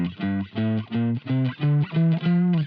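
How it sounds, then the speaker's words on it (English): A major scale starting from F is played on a distorted electric guitar, eight evenly spaced, sustained notes climbing in pitch, loud and close with no talking. "That is the sound of a major scale."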